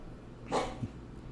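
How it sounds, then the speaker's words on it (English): A dog lets out a single short bark in the background of a quiet indoor room, faint and brief. "If y'all hear barking in the background, that's our dog."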